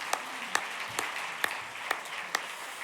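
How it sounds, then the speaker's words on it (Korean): Church congregation applauding during a Sunday service, with a broad wash of clapping and several sharper individual claps standing out, moderately close and steady for a few seconds. "박수 보내주세요"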